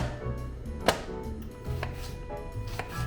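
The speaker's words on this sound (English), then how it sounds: "Then we're going to cut up our vegetables. Gonna use half an onion." A knife chops half an onion on a cutting board, with a steady run of close, crisp cuts and one sharper thud, heard clearly with no talking, while vegetables are prepared for fried cabbage.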